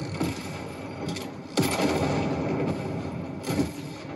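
Gunfire in a Fortnite match, three sharp shot bursts near 0.2, 1.6 and 3.5 seconds over a constant loud game din, with no voices.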